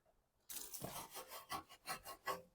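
A brush scrubs the inner barrel of an alloy wheel, giving a series of rhythmic, close rasping strokes after a brief quiet start, with no talking.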